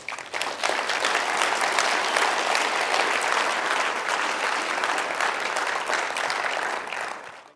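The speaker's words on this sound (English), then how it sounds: "So give yourselves a really big round of applause." A roofing industry conference audience breaks into loud, sustained applause, a dense wash of clapping that holds steady for several seconds and tapers off at the very end.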